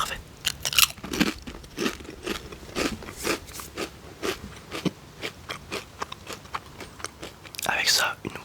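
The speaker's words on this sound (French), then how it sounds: "elles sont vraiment épaisses par rapport aux chips françaises. Ce qui fait que moi je préfère personnellement. Et du coup elles sont bien croquantes." Close, crisp crunching and biting on thick, crunchy Portuguese potato chips, a steady run of sharp crackly bites and chews with soft whispered talk between them.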